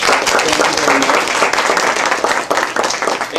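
Dense, loud applause from an audience at a book cafe talk, continuous clapping filling the whole stretch without a break.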